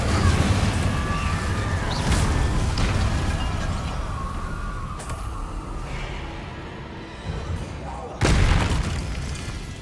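In Hogwarts Legacy, the Incendio fire spell is cast against Inferi, producing booming, fiery bursts with whooshing flame over continuous game ambience; several sharp blasts stand out, the loudest near the end.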